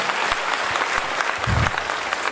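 Audience applause welcoming a guest at a gathering, a steady wash of many hands clapping throughout, fairly close and moderately loud, with a brief low thump midway.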